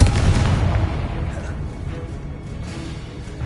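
A Confringo blasting spell from the Hogwarts Legacy video game bursts with a loud, deep boom that rumbles and fades over a few seconds.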